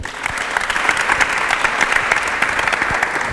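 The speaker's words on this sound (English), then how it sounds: "can we please give all of them who read a round of applause?" Loud, sustained applause from an audience at a book reading and birthday celebration, many hands clapping densely and evenly with a few sharper claps standing out, no voices over it.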